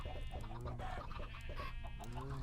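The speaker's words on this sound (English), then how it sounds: "Yay, we're getting some chickens out of there." Chickens in Minecraft cluck repeatedly in short, soft bursts, several overlapping calls at low volume, with no talking.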